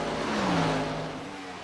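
A damaged race car in a Dynasty Racing League event at Atlanta Motor Speedway, its engine note rising then falling in pitch as it passes close and loud, with no talk.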